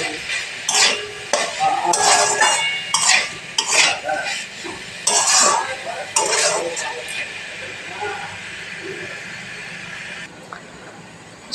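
Banana flower curry being stirred in a pan with a spatula, a series of scraping, clattering strokes with light sizzling, close and fairly loud, easing off into quieter simmering toward the end.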